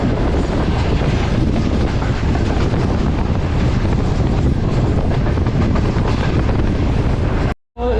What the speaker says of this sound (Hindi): हमारी ट्रेन अप्रोच बना रही है हैदराबाद रेलवे स्टेशन पे